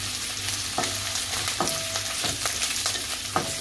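Onions with curry leaves frying in a pan for a brinjal and potato dish, a steady close sizzle broken by several sharp scraping stirs of a spoon at regular intervals.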